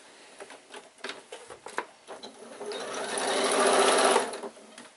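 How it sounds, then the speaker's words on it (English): A sewing machine stitches the lining of a baby bag, running in a steady mechanical whir that builds louder and denser toward the end before easing off, with lighter taps and handling noises at the start. "put that under your machine and start to stitch"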